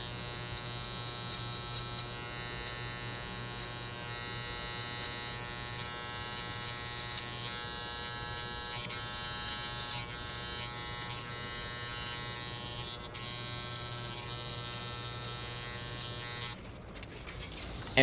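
Electric hair clippers buzz steadily and close-up through a drop fade haircut, the lever worked between open and closed to erase the bottom line, a continuous hum that cuts off near the end.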